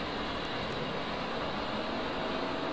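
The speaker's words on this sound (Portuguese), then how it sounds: "O motor vai começar a subir." Jet engine in the DCS combat flight simulator spooling up as the left engine is started; a quiet, steady broadband rushing roar holds evenly throughout, alone without speech.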